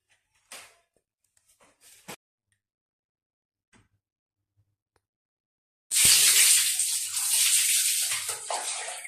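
Water gushes loudly from a tap into a bathtub, a steady rushing pour that starts abruptly after a few soft knocks and clatters and runs on continuously.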